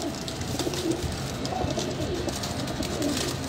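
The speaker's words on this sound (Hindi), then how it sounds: "ये गोल्डन कबूतर है" A golden pigeon with blue feet coos softly in low, repeated rolling calls, close by, amid light rustling and handling noise.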